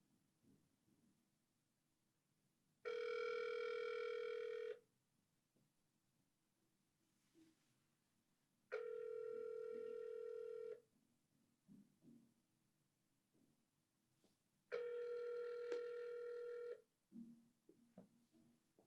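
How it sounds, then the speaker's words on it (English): A telephone line rings while a call is placed to a US senator's office, with three long, loud ring tones evenly spaced a few seconds apart and quiet line noise between them. "Thank you for calling the office of Senator Rand Paul"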